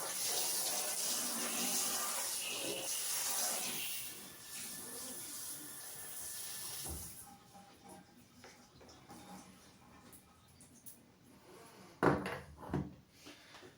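Water sprays hard from a bathtub faucet's spray feature for several seconds, then shuts off, followed by quieter dripping and a few knocks and handling sounds.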